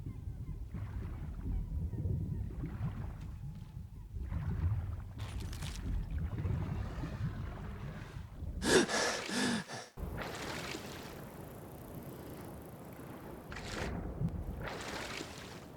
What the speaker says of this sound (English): But this mod replaces the swimming audio and also underwater audio.